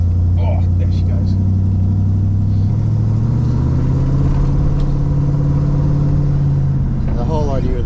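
A custom sled car built by Doug Thompson idles with a low, steady engine rumble, then rises in pitch as it pulls away, the tone climbing and sliding; a person talks over it.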